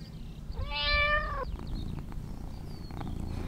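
A cat gives one clear, drawn-out meow near the start, followed by a quiet stretch of soft background noise, with no one talking.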